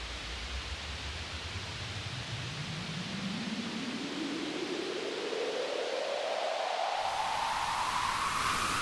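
A basic noise riser patch from Omnisphere 2.1: a dense wash of hissing synth noise with a pitched sweep climbing steadily upward over several seconds, brightening toward the end, loud and continuous with no voices.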